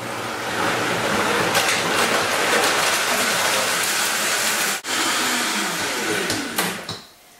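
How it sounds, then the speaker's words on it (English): A blender whirs raw jumbo cashews into a smooth blend for a raw ice cream cake, a loud, steady roaring drone with a brief drop near the middle and a winding-down stop at the end. "I'm going to pop the top on and blend this down until smooth"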